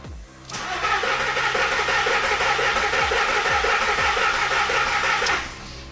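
A Volkswagen Polo engine cranks with several rhythmic starter pulses, then catches and settles into a steady, loud, close-up running note for several seconds before it cuts off, with no talking.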